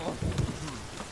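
A short burst of thunderstorm in The Witcher 3, with a low rumble of thunder rolling under steady falling rain, fairly loud and close, no speech.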